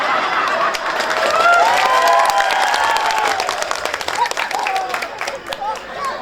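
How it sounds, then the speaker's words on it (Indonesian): Sustained audience applause and clapping at a lively Islamic sermon gathering, broad and crowd-filled, with some cheering and voices mixed in, swelling then thinning toward the end. "Apa tepuk tangan kok?"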